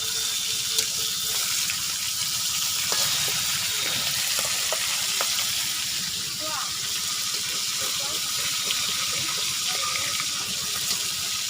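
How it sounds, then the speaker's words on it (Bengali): Pangas fish fries in oil in a covered kadai, a continuous soft sizzle and crackle with occasional clinks and a running-water hiss behind it. "দেখুন দেখি আমি মাছ হয়েছে কিনা ভাজা"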